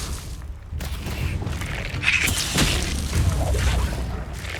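An Expelliarmus spell in Hogwarts Legacy gives a booming, whooshing burst over a busy, full game mix, with a few sharp impacts standing out near the middle.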